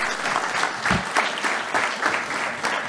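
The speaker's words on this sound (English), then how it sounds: "Ladies and gentlemen, a big round of applause." A large audience claps steadily at the 22nd India SME Excellence Awards ceremony. The applause is a dense, sustained patter with no pauses, rising slightly in several waves.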